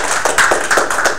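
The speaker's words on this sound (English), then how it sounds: "That applause is for me." Audience applause in a lecture hall at the end of a podcasting talk, a brief burst of clapping with irregular, fairly close claps and no speech over it.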